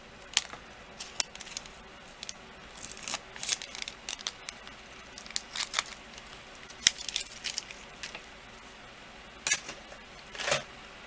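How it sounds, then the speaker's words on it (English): Regular scissors snip through thin Angelina film, crisp scattered cuts and crinkly rustles in irregular clusters, close-up and fairly quiet with no voices. "Just cut it with regular scissors."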